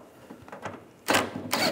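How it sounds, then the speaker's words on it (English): A few short metallic ratchet or wrench clicks come from tightening a bolt on a 1996-2002 Toyota 4Runner electric fuel pump, with a louder pair of bursts near the end, close up. "Now I'll tighten this one down."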